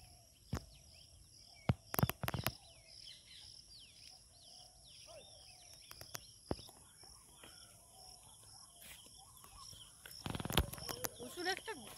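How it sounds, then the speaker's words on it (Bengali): Birds call outdoors in the Sundarbans, with scattered faint chirps and short whistling notes over a quiet background. Occasional sharp knocks and a brief louder burst near the end break the calm. "ডাক পাখির ডাক সারাদিনই শোনা যায়।"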